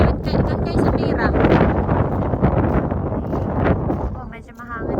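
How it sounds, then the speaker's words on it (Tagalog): Wind buffets the microphone in a park, a loud, rumbling roar of gusts with a voice speaking over it, close and continuous before easing near the end. "Oh, medyo mahangin ngayon."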